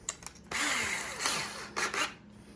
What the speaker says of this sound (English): I want the threads to grab in to drill all the way through